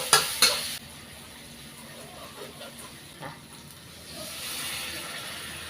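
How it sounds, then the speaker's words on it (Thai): Apple snails stir-fried with red curry paste in a pan: a couple of sharp clanks at the start, then steady low sizzling and hiss with occasional stirring scrapes, rising slightly toward the end. "นี่นะคะใส่พริกแกงแล้วนะคะ ลงมาก็จะผัดแล้ว"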